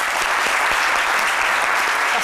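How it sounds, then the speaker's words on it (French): A loud, continuous wall of applause from a large audience, dense clapping blending into a steady roar that holds at full strength from start to finish. "Alors Lodi, j'aimerais vraiment qu'on l'applaudisse énormément."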